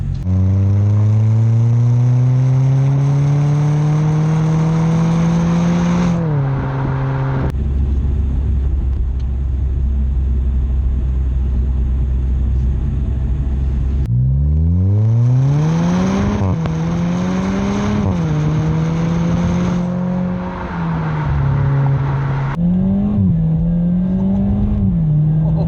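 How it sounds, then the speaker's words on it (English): A Jaguar XE with a new exhaust accelerates hard through gear changes, the loud engine climbing then dropping with sharp dump noises at each shift, close and continuous, interrupted by a low idle-like rumble. "those dump noises are awesome. Dump noises, I think first and second gear changes"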